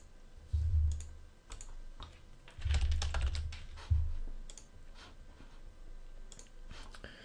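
Typing on a computer keyboard while coding a jQuery Mobile navigation, several short bursts of quick close clicking keystrokes separated by pauses, no talking.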